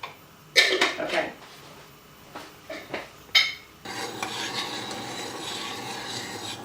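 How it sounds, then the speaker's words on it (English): A spoon scraping and clinking against a pan while sugar is stirred for rowan berry jelly, heard as a few loud rubbing strokes and then a steady, softer grinding scrape. "we need to keep stirring"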